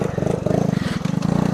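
A 110 dirt bike engine revs steadily up close, its pulsing mid-range drone rising and falling in rapid throttle bursts while the rider sets up a wheelie.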